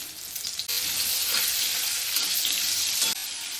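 Green chillies, a dried red chilli, mustard seeds and salted mango fry in a pan with a dense, continuous hiss and crackle, loud and close, with no talking.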